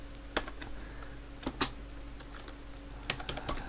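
Keys clatter on a computer keyboard as a command is entered, scattered individual clicks with short pauses, close and fairly quiet.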